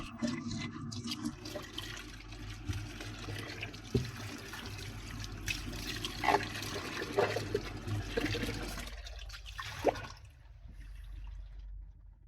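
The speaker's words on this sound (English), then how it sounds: "Then rinse the mixing cup with water." Running water rinsing a plastic mixing cup and its lid at a sink, a steady splashing wash with small knocks and drips, ending in a quieter stretch near the close.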